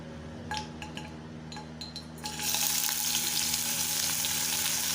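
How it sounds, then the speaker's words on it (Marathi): Paneer pieces frying in hot oil in a pan while chana dal paneer pulao is being cooked, starting with a few clinks and then breaking into a loud, steady, continuous sizzle close up. "पॅनमध्ये तेल टाकले तेल गरम झालं की आपण पनीर घालून घ्यायचं आहे"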